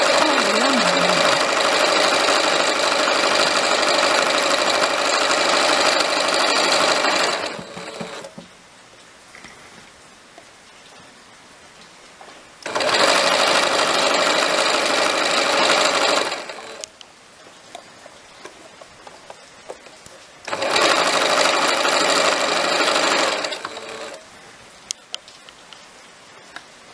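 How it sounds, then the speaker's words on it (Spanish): Sewing machine stitching the facings of a blouse sleeve, running in three steady buzzing bursts of several seconds each with quiet pauses between, close and loud with no talking. "Ahora le pasamos a la máquina a coser las vistas de la manga."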